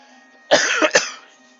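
A single close, harsh cough with a quick second burst, alone in an otherwise quiet room.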